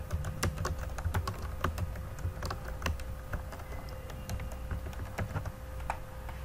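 Someone types on a computer keyboard while writing in Microsoft Word, close and steady, with quick clicking keystrokes and brief pauses, no talking over it.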